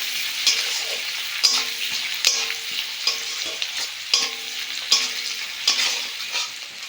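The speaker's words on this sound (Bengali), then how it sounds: "পেঁয়াজ টমেটো বেশ ভালো করে ভেজে নেব।" Onion and chopped tomato frying in a pan, a steady close sizzle broken by repeated scraping stirs of a spatula, one every second or so, with no talk.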